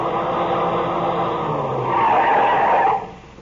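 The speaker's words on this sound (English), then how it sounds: "I heard the whine of a car coming over the rise in the rough road" In a radio drama effect, a car skids to a stop on a rough road: a sustained loud tire squeal with engine noise that rises near the end and then cuts off abruptly.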